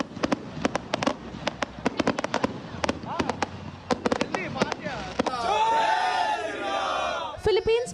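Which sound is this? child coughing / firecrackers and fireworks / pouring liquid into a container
firecrackers and fireworks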